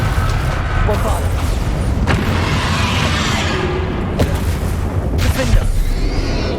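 Continuous booming spell explosions and blasts from the video game Hogwarts Legacy in the middle of a combat sequence, dense and loud with sharp bursts throughout, while a voice shouts spell names over the din.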